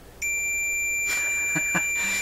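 A steady high electronic beep tone sounds continuously from a continuity tester checking a Rogers Majestic RM503 radio chassis and wire, with a few soft clicks and handling noises partway through.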